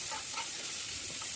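Boiled pasta sizzling steadily in a pan of frying onion and tomato, a dense continuous hiss close up with faint stirring scrapes and no voices.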